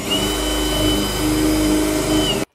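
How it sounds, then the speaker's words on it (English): A power drill bores a hole through the bottom of an RC boat hull, its loud, steady whine running for about two seconds before cutting off abruptly. "it's drilling a hole in the bottom"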